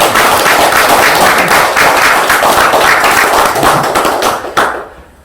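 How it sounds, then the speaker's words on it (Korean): Audience applause at a talk by a Won Buddhist teacher, a dense, loud wash of many hands clapping that carries steadily and then cuts off abruptly near the end. "박수 한번 쳐주시죠."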